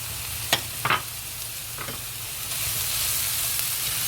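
Chopped onions and golden garlic fry in a pan and are stirred, giving a steady close sizzle with a few quick scraping strokes near the start.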